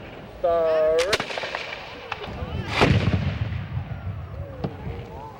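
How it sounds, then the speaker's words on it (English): A historic firearm discharges outdoors with a sharp, loud report and a rolling boom that fades into the open air, amid background crowd noise and a brief tonal sound just before the shot. "The gun brought up and cocked, and it was ready to fire."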